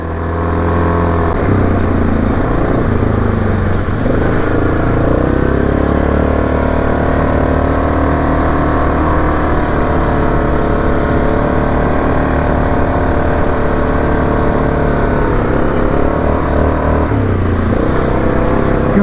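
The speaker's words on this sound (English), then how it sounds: "And the quad there just slid off to the side some. She's in two-wheel drive, and you see how she's sliding." A quad ATV in two-wheel drive slides through deep mud on rural Georgia back roads, its engine droning loud and steady throughout with surging revs and no talking.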